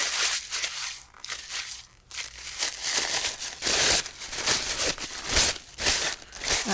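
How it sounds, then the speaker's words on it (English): Paper is crinkled and crushed by hand into a faux leather texture, giving continuous close, crackling rustles with brief pauses throughout. "Crinkling up some more."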